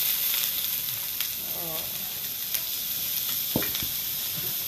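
Onions hit hot oil in a pan for quinoa fried rice, giving a steady bright sizzle and hiss throughout, close up, with a few light stirring scrapes and no one talking.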